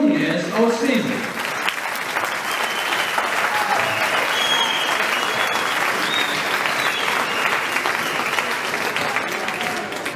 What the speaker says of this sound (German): Euer Applaus für euren Jungen